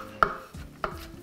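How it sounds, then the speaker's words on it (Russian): A knife chops dried mushrooms on a cutting board, two crisp close knocks with a softer tap between them, in a quiet kitchen. "Нарезаем грибы сразу же, в первую очередь, и нарезаю так, чтобы в каждую ложку попал кусочек гриба."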